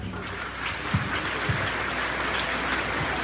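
An audience at a school investiture ceremony claps in steady, moderately faint applause that holds evenly for a few seconds, with a few louder individual claps standing out.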